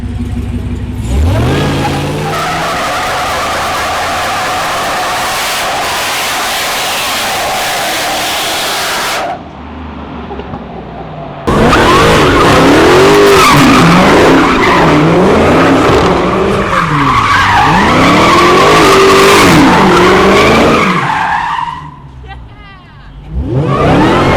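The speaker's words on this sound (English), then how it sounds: "so here we go, burnout for burn." A Dodge Hellcat on 40-inch tires does a burnout in first gear with the locker on. The engine roars loud and close with squealing, skidding tires, cuts out briefly, then revs hard again before fading.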